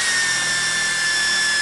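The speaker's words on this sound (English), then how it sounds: "drill that in just like that" A power drill whines at a steady high pitch, drilling a hole in a nutplate installation continuously and loudly for a moment.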